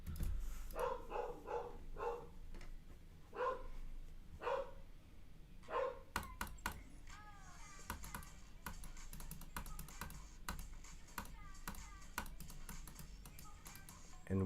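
Several dogs bark in sharp, scattered bursts, loud and close, over a steady hum of room noise and some quick clicking, with no talk.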